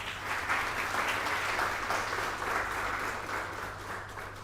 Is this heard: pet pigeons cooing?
no